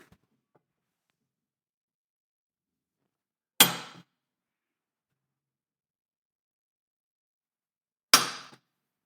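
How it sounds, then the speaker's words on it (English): Two sharp metallic taps, a few seconds apart, each a single ringing strike of a hammer on a center punch marking a motorcycle fairing amp bracket in a quiet room. "We'll take our center punch."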